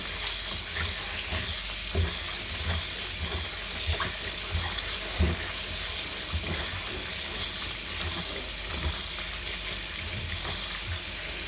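Tap water runs steadily into a kitchen sink while mushrooms are rinsed for a tagliatelle dish with mushrooms, clams, mussels and samphire, a continuous splashing hiss with occasional louder knocks and sloshes from handling.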